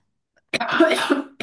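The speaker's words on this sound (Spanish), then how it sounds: "Me da un ataque de tos, a ver qué me pasa." A single burst of harsh coughing close up, several rough hacks run together over about a second, then quiet.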